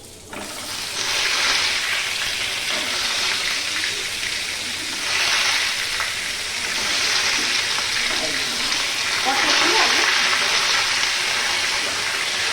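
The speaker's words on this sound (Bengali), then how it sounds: "এখন এই পটলগুলো আগে ভেজে তুলে নেব।" Salted, slit pointed gourds (potol) fry in oil in a pan over lowered gas, making a loud, continuous sizzle that swells and eases in waves across the clip.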